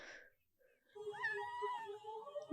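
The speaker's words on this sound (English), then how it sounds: "Kitten." A kitten mews in a drawn-out, wavering cry lasting over a second, close but fairly soft, after a brief earlier noise and a short silence.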